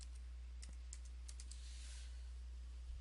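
A few light keyboard keystrokes click in short bursts, quiet under a steady low hum from a Windows 8 computer.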